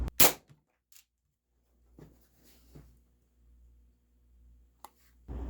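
A Daisy SG22 pump air rifle, pumped five times at half power, fires a single sharp crack up close, followed by quiet with a few faint clicks and another burst of noise at the end.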